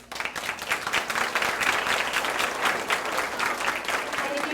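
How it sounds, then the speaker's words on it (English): Sustained audience applause fills a school graduation ceremony, steady dense clapping from a crowd lasting throughout without a break. "if you guys can hold your applause until we're finished"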